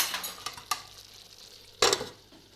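Chicken karahi cooking over a low flame, with a soft steady sizzle, a few light stirring scrapes and a louder clatter of a spoon against the pot near the end. The sounds are close by and no one talks.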